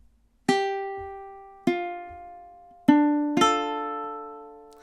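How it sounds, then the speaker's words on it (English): A ukulele plays measure 8 of the MASH theme alone and close: four plucked notes and chords, each ringing out and fading, the last two following quickly. "So measure 8 in time is something like this."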